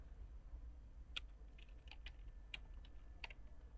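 Login details typed on a computer keyboard for a restaurant reservation system, a few light, irregular key clicks in short bursts over a quiet room hum, no speech.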